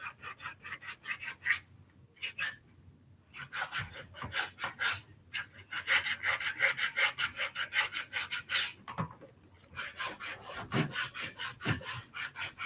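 Steady rhythmic rubbing and scraping on a big toe during a pedicure, repeated back-and-forth strokes with brief pauses, fairly faint and close, with no talk.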